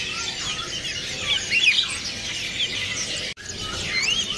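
Songbirds chirp and tweet continuously at a bird-market kiosk, many small high-pitched calls overlapping into a busy, steady chorus with a brief dropout near the end.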